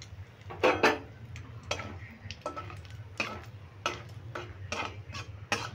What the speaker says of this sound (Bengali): ফোড়নটা খুব ভালো করে নেড়ে ভেজে নেব।